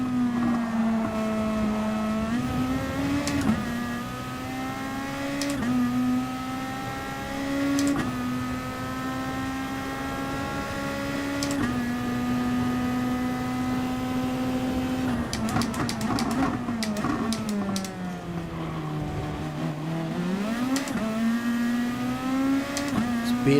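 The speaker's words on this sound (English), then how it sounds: "You could hear the rear wheels just battling for traction as it took off." A race car in Gran Turismo Sport gives a loud, sustained engine drone with repeated gear changes and rev swings, while the rear wheels fight for traction under acceleration and the note wavers through corners.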